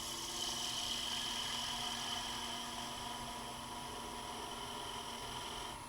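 A wood lathe spins a cone as a skew chisel makes light cuts, a steady faint motor hum with a high whine and soft continuous hiss of the cut, even throughout with no voices.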